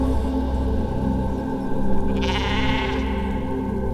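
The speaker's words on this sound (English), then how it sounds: "Now you got a sheep." Sheep bleating loudly over a dense, droning soundtrack-like background, one long wavering bleat rising out of the mix midway through, with no talking.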